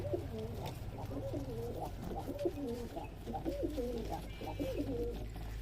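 Pigeons at a farm in Sonamasjid, Bangladesh coo repeatedly in soft, rhythmic rolling phrases, several birds close by with a faint background hum.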